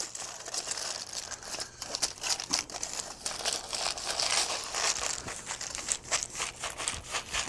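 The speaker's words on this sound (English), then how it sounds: "Now we use the foil to help form it into the log shape that we need." Aluminium foil crinkles and crackles steadily and close up as hands roll compound butter into a log, the rustling continuous with brief sharper crunches and no talking.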